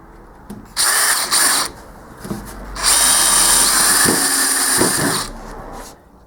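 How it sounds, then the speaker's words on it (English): A power drill drives screws into the end of a wooden roll-around shop cart: two short whirring bursts, then a longer sustained run, with a few soft knocks between, close up. "And now we'll just screw this end in."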